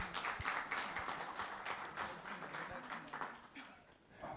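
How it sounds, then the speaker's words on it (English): Audience applause at a political party constituency branch meeting held in a primary school, a dense, steady patter of clapping that fills the room for several seconds with a few sharper claps standing out. "Please give her a round of applause, please."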